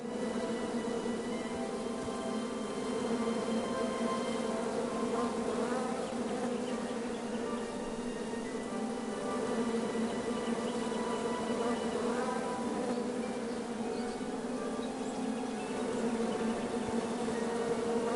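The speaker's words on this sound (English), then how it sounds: "Bees! I ruined the bees' day and that lovely meal." Dense, continuous swarm of bees droning in a PS4 game, a close and steady hum that never breaks, with layered buzzing tones and no talk over it.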